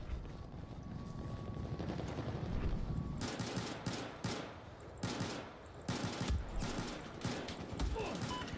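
Rapid bursts of gunfire from Battlefield 4 combat, loud and close, with repeated volleys and single shots breaking through a dense background din for most of the stretch.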